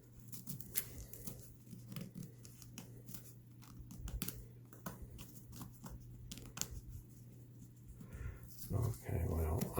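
Paper towel being torn away from a sewn zipper area on a ballgown-style fabric purse, giving short ripping and rustling bursts close by, with a steady low hum beneath and louder handling near the end.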